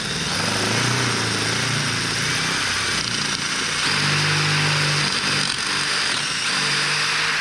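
A power drill with a 10 mm bit bores into a wall to hang a shelf, a steady, loud high-pitched whine running continuously close by with slight shifts in load.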